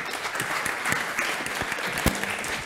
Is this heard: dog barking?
no